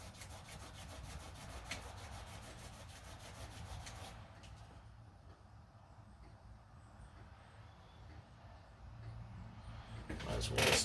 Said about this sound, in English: Hit it with some sandpaper real quick.